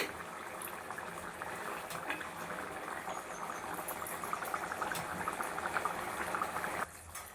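Tamarind curry with roasted bitter gourd boils steadily in a pot on the stove, a continuous close bubbling and gurgling simmer that runs nearly the whole time before cutting off abruptly near the end.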